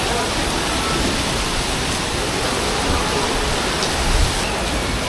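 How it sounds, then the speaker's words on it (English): Heavy monsoon downpour hammering a town in Tlaquepaque, Mexico, a dense, steady roar of rain close by that fills every moment without letup. "it is officially a monsoon"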